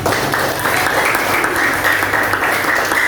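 Classroom applause for a student group after their presentation in an eighth-grade social studies lesson, a sustained even round of many hands clapping at steady loudness, fairly close, with faint voices mixed in.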